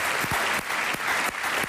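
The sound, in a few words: audience applauding the medical staff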